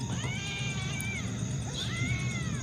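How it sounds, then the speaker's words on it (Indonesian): Cats fighting outdoors at night, with drawn-out, wavering yowls and caterwauls rising and falling over a constant background hiss, fairly close and loud. "tiba-tiba di sebelah kita ada suara kucing berantem"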